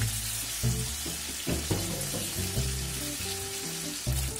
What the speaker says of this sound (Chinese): 煎到两面都微黄，